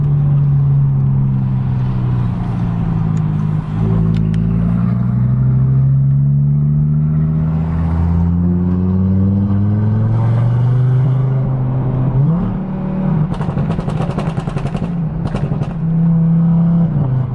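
An Audi RS3 with a 3.5-inch aftermarket exhaust revs and drops in long sweeping pitch changes, loud and close, ending with a burst of crackling overrun pops from the exhaust.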